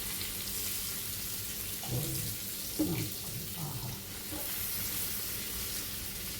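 River prawns fry in a pan and are turned over, giving a soft, steady sizzle throughout, with a brief stirring shuffle midway, fairly faint and without talk.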